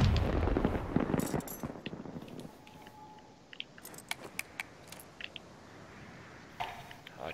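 Gunfire in the Black Ops 3 video game during a 2v2 tournament match: a burst of close shots at the start, then scattered sharp cracks and distant pops over a quieter background.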